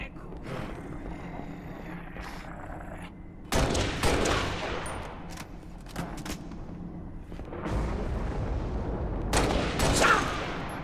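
Sustained gunfire in the Xbox 360 game Halo: Reach, with bursts and rattling volleys that swell loud around the middle and again near the end over a constant background of battle noise.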